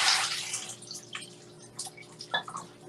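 Water drains off snapper fish being prepared for Jamaican frying: a soft, close splashing hiss that fades, then a few scattered drips and trickles.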